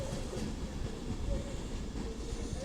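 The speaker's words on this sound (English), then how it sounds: "I have not seen that train in ages." A train passing through Stockport station on the West Coast Main Line, a loud continuous rumble of wheels and carriages close by, steady throughout with no talk.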